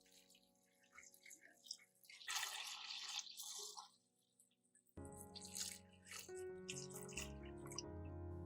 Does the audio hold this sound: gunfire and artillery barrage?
no